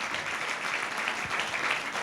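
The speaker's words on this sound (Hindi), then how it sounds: "ताली बजाएंगे जोर से" Loud applause from a church congregation at a Sunday service, dense steady clapping filling the whole moment without a break.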